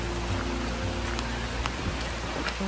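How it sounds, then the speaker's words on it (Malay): Rain falls steadily on a morning at a forest chalet, an even, dense hiss of drops throughout with no one talking. "Hari pun dah hujan."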